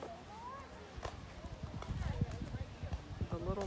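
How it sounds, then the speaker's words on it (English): A pony's hooves clip-clop at a walking pace on hard ground at a small town mercantile, steady irregular knocks close by, with a person's voice talking over them. "She's just walking the pony around."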